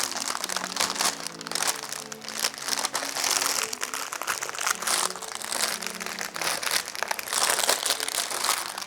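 Clear OPP plastic wrapping film crinkles and crackles loudly while it is handled, cut to size and fitted around a flower basket, with dense rustling bursts close by and no voices.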